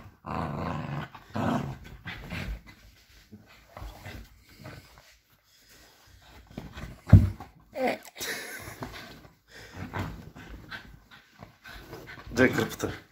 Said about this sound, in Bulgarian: Ти малко долно кученце.